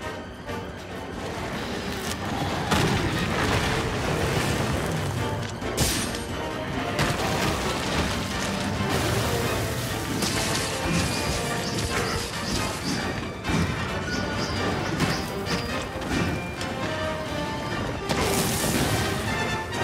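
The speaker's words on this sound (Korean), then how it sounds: "터진다, 터진다, 터진다." Monster Hunter World combat rumbles with repeated heavy crashes and bursting impacts, loud and dense throughout, over a busy game mix with little talk.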